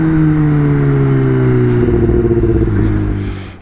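A Kawasaki ZX-10R sport bike engine revs loud and close, its tone climbing in steady pitch sweeps, then stuttering and dropping off as the throttle closes near the end.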